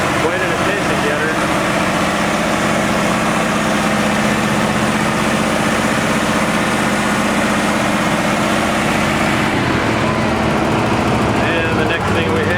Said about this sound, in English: Got some RPMs going on the 1468.